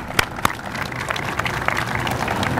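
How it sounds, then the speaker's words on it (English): A crowd at a ceremony marking the 1,000th construction worker hired at MGM National Harbor claps for an honoree, a few loud separate claps at first, then a steadier, building round of applause. "so we can give you a round of applause here"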